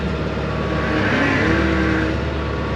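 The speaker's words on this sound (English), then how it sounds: "go ahead and give it a little throttle." A Bobcat E60 mini excavator fitted with a tilt rotator, its diesel engine rising under added throttle, a loud, close, steady mechanical drone that swells slightly midway, with no voices over it.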